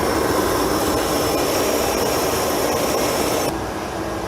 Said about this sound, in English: We're not running a real big flame. I'm not over firing the boiler